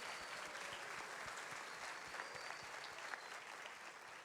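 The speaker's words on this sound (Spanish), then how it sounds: "Un aplauso para ellos," A crowd claps steadily throughout for married couples at a church couples' night, a dense even patter of applause in a room with no cheering.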